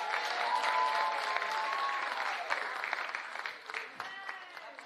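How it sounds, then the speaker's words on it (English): Church congregation applauding the Little Light class and their teacher at a kids' Sunday service, a dense, steady burst of clapping from a full room that thins slightly toward the end. "Let's give them a big round of applause."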